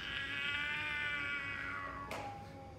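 A person imitates a cat's meow, one long drawn-out wavering cry that fades near the end, with a short burst of noise before it finishes, alone with no talk.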